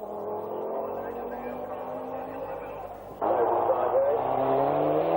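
Michel Mouton's Audi rally car at the 1981 RAC Rally drones steadily and then jumps to a louder, harsher engine note partway through, heard under a narrator's voice.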